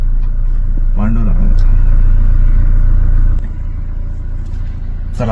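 A Maruti Ertiga car drives with a steady, loud engine rumble and road noise throughout, easing slightly toward the end, while people talk over it.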